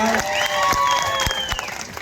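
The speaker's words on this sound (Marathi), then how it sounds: "शा पट्ट्या माणसासाठी सुद्धा जोरदार एकदा टाळ्या वाजवा" A crowd at an open-air municipal election victory rally in Maharashtra claps and cheers, a short burst of applause mixed with whistles and voices that fades toward the end.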